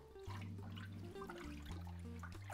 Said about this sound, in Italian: Mettiamo un po' di acqua, prendiamo i funghi, li immergiamo nell'acqua.